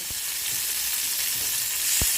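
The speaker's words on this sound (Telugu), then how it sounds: "ఇప్పుడైతే తాలింపు వేసుకున్నాం." Tempering spices sizzle in hot oil with a steady, close hiss and a few soft taps of a spoon, without any talking.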